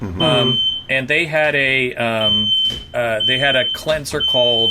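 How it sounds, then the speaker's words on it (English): A household smoke alarm gives a high, piercing beep over and over, pausing between tones, while two people keep talking over it in a conversation. "I'm really sorry about the beeping, but the smoke alarm is going off."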